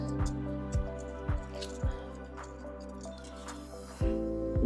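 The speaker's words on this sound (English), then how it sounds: "stir it up really good. You got to get the sugar from the bottom and the butter" A spoon stirs a microwaved sugar and butter mixture in a bowl, giving repeated close, wet scraping strokes in a steady rhythm, one every half second or so, ending in a stronger stroke.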